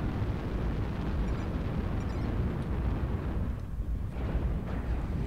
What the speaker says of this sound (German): Aha, da wird schon geschossen.